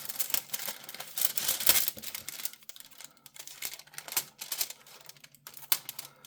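Scissors snip and crunch through large window envelopes in quick irregular bursts, close and fairly quiet, with rustling between cuts.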